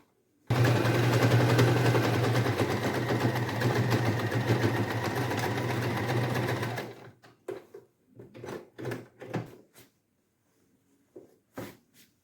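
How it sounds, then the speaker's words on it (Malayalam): A sewing machine stitching a seam on a small baby trouser, running in one loud continuous whirring burst for several seconds, then stopping, followed by scattered handling clicks and rustles. "കുറച്ച് ഭാഗം നമ്മൾ വിട്ടിട്ടില്ല ആ ഭാഗം നമ്മളൊന്ന് തയ്ച്ചെടുക്കും"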